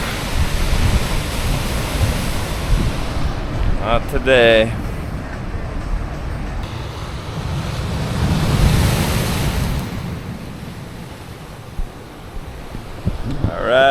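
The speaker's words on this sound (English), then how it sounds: "Look at those waves." Ocean waves break and wash steadily against the Maui shore, loud and close, with wind buffeting the microphone and a brief spoken remark partway through.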